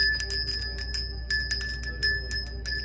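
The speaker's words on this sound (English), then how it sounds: "I'm going to ring the bell" A bell rung again and again, loud bright metallic strikes with long ringing tones that blend into one another in an uneven rhythm, with no one talking.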